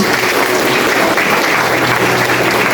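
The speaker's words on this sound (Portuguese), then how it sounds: "Uma salva de palmas para Jesus." A congregation at a church service applauds loudly and continuously, a dense, steady roar of clapping hands filling the whole moment without speech.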